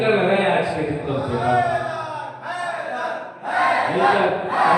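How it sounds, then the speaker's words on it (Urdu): A gathered crowd chants slogans in unison in loud, rhythmic waves, with shouted calls rising and falling and brief dips between phrases. "گزارش کر رہا ہوں آپ لوگوں سے مل کر بھائی نعرے مل کر لگائے"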